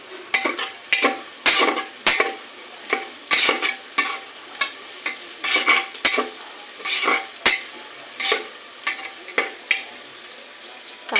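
Chopped onions fry in a pan over a high gas flame for khichdi while a spoon stirs them repeatedly, giving rhythmic scraping strokes over a steady sizzle, close and moderately loud with no talking.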